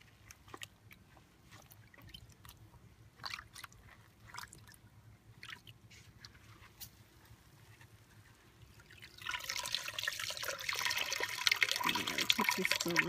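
Water splashes and squishes as raw wool fleece is squeezed gently during a first wash, faint drips and trickles at first, then a louder, steady wash of water, with a person talking quietly at times.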